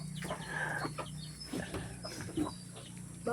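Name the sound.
chickens clucking on a farm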